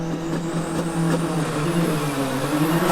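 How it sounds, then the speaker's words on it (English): A 700 horsepower Subaru Legacy RS hill climb car with an Impreza 22B boxer engine, weighing 1180 kilograms, drones loudly and steadily with a strong low engine tone, pulling hard throughout with no talk over it. "700 horsepower Subaru Legacy RS."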